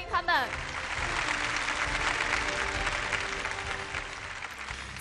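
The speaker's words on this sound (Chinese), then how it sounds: "让我们用热烈的掌声欢迎十二位投资人的到来" A studio audience on a televised startup pitch show applauds warmly to welcome twelve investors, the sustained clapping running steadily across the stretch after a brief opening sound, with voices mixed faintly beneath.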